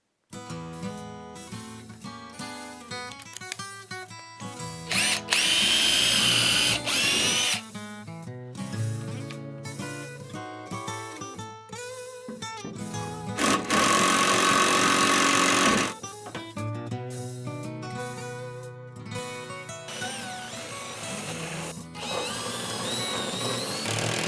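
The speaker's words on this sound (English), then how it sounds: "we're going to want to pre-drill with a drill bit that's a little bit smaller in diameter" A power drill whirs in several bursts, pre-drilling into a wall stud for lag bolts, spinning up loudly and stopping between runs, close by with small clatters in the pauses.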